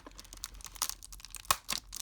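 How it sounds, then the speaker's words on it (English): A pen pokes and tears through toy packaging for a Disney Cars figure, giving a quick run of close crinkling, crunching and ripping bursts with one sharper pop partway through. "We're just going to poke it with a pen."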